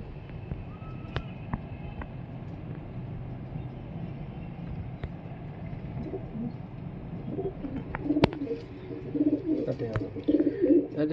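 Pigeons coo softly amid background noise, with occasional clicks and rustles, and the cooing grows busier and louder toward the end.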